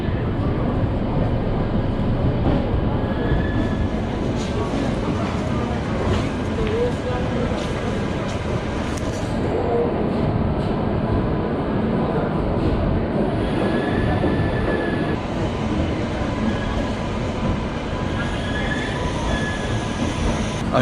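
Howrah-Puri Express pulling into Kharagpur junction at night, a steady loud rumble of rolling wagons and rail noise with faint wheel squeals, continuous throughout.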